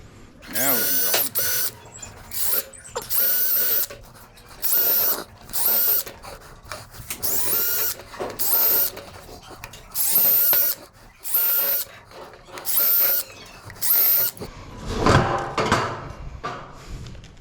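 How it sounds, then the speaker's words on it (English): A power drill bores into an ICF window frame in repeated short bursts of one to two seconds, with brief pauses between them, fairly close and loud. "now we can drill"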